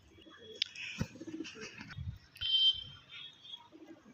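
Pigeons in a loft coo in short low bursts, with soft bird calls and chirps scattered around them at close range.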